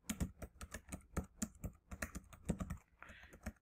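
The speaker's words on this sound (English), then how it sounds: "Type in your password." Steady, rapid typing on a computer keyboard under Ubuntu Linux, close-miked and quiet, with irregular clicks running throughout and a short soft hiss near the end.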